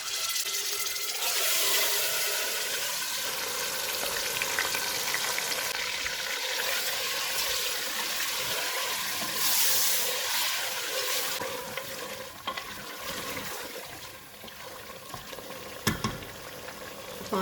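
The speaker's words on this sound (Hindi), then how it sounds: "मैरिनेटेड मटन डालेंगे, चूल्हे को फुल रखेंगे और इसको 4 से 5 मिनट तक भूनेंगे।" Marinated mutton sizzles and fries in a pot over a full flame, a steady, dense hiss with crackling texture that runs throughout, close up, with faint clinks near the end and no talking.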